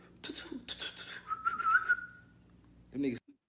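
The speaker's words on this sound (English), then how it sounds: "start doing little whistles" A short whistled phrase, a thin rising and wavering tone, set between a few brief clicks and a short vocal sound near the end.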